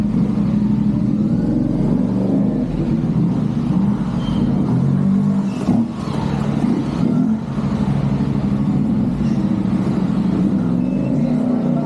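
A CFMOTO 450SR motorcycle with a quick shifter runs steadily at a garage. It holds a loud, continuous mid-pitched engine drone with slight rises and dips.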